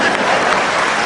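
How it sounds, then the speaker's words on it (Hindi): Steady audience applause from a crowd at a Hindi comedic poetry recital, dense and continuous clapping filling the space with no pauses. "इधर से तालियां कम बज रही हैं"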